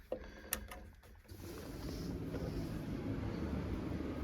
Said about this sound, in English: here we'll click it on and listen for the furnace